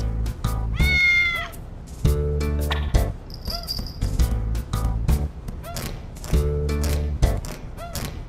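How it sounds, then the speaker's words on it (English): Cat meows in the Digital Devil Saga video game ring out repeatedly, clear and close, among game music and chirping effects, with no speech. "Hey, how'd you get in here, little kitty cat?"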